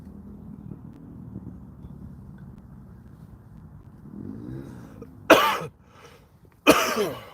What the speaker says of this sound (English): this cough is driving me batshit